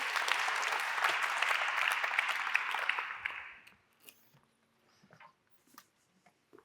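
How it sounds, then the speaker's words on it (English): Audience round of applause at a live Q&A event, dense and steady for about three seconds, then fading out quickly into near silence with a few faint scattered sounds. "let's give them a round of applause while that happens."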